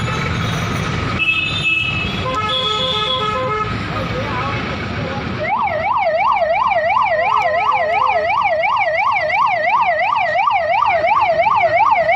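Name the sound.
ambulance siren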